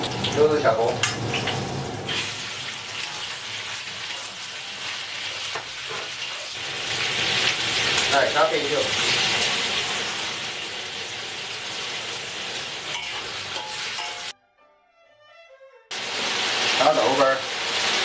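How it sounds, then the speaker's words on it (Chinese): Ginger and garlic fry in hot oil in a wok while cooking Sichuan-style home potato-braised beef, a steady loud sizzle with stirring scrapes and brief squeaks, cutting out to near silence for a moment before resuming. "姜蒜下锅。"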